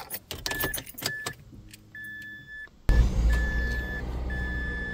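A car is started after a battery check-up: short beeps and small metallic clicks give way to the engine catching and settling into a steady, close idle, with a chime repeating over it.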